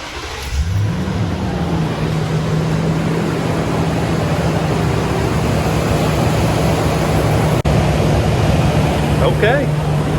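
A Toyota Tundra pickup engine starts and settles into a steady, loud idle that hums evenly for several seconds. A brief click or thump comes near the end.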